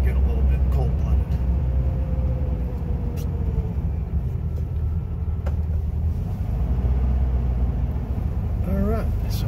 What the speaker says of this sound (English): All right, so we're off here. There's our first gear. And a shift into second.